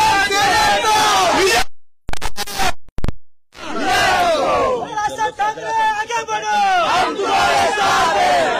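A crowd of political activists at a street celebration in Mumbai shouts and cheers in loud, close chanted bursts, with brief dropouts between surges of massed voices.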